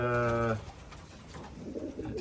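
Pigeons in a loft give a close, loud cooing call that stops after half a second, followed by fainter cooing and rustling in the background.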